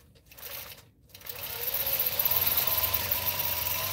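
A longarm quilting machine stitches parallel lines across a quilt, giving a steady close mechanical whir that starts softly, dips briefly, then settles into a louder continuous hum.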